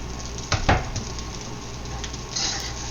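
Spam fried rice with garlic, green peas and onion sizzles in a wok as it is stirred, with a steady frying hiss and a few sharp clanks of a utensil against the pan.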